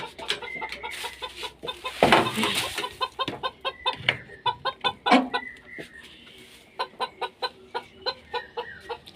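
Chickens kept in a kitchen cluck close by in a quick, rhythmic series, with a brief flurry of scuffling partway through.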